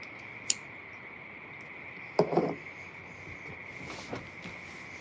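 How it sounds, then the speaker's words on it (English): A frog calls outdoors with a steady high-pitched trilling drone, punctuated by a few brief louder clicks and a short burst of nearby noise. "You hear the sound manifest from a frog."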